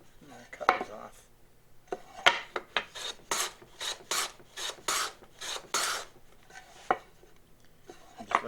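A hand tool cuts off wooden pieces on a wooden hinge box with a series of rhythmic rasping strokes, close and crisp, building into a steady run of regular scrapes before a few final isolated ticks.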